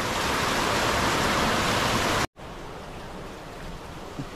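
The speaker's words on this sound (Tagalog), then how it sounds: "Bumuhos lang yung ulan" Heavy rain pours in a dense, loud hiss during a typhoon, cuts out abruptly, then returns as a softer, steady downpour.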